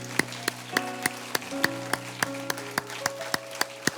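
A congregation claps in steady rhythmic unison during a Spanish-language church service, sharp regular claps over sustained musical tones.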